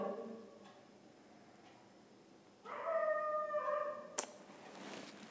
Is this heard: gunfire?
no